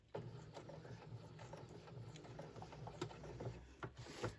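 A sewing machine stitching binding on a small Christmas mug rug, quiet, steady mechanical whir with faint rhythmic ticks running continuously from start to finish.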